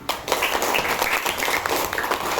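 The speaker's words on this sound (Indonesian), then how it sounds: "Tepuk tangan untuk Filza." Classroom of children applauding a pupil, a short burst of dense, fairly loud clapping from a group nearby that carries on steadily for a couple of seconds.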